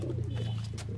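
A Teddy pigeon coos nearby, a short low rolling coo over about a second, close and fairly clear.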